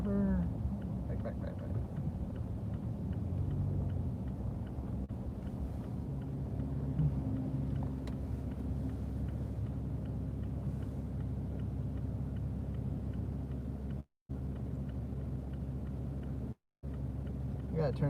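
A truck's engine rumbles steadily as it drives along a road and turns a corner, a continuous low drone with wind noise, overlaid by someone talking throughout and two brief dropouts.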